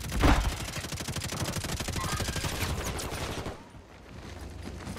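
Call of Duty: Warzone gunfire, a rapid automatic burst of closely spaced shots rattling for about three and a half seconds, loud and near, then dropping off to quiet ambience.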